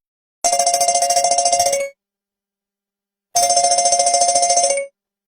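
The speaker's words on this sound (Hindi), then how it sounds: "अपनी दुकान का आखिरी ताला लगा ही रही थी कि मोबाइल बज उठा" A mobile phone rings in a village shop as its keeper locks up for the night: two loud, steady trilling bursts about 1.5 seconds each, separated by a short silence, with no voices.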